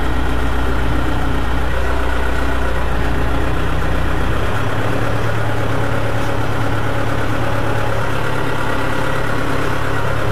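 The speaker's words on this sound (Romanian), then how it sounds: "Asta e viteza cea mai mică a tractorului." A Massey Ferguson 124 tractor engine runs in its lowest gear at about 1200–1300 rpm, a loud steady close diesel drone with a slight drop in low rumble partway through.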